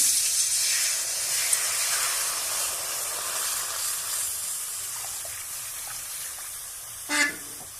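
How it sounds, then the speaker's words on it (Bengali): Water poured into a hot pan of lightly browned ingredients for a Bengali nol chutney, giving a steady broad hiss of steam throughout, with a brief louder burst near the end. "এবার আমি জল দিয়ে দেবো"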